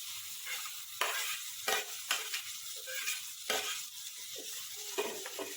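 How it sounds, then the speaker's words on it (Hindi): Chopped tomatoes go into softened onions frying in a pan for chana masala. A steady, loud sizzle runs throughout, with several sharp bursts of hissing as the pan is stirred. "प्याज अच्छे से नरम हो चुके हैं, उसमें हम कटे हुए टमाटर डालेंगे।"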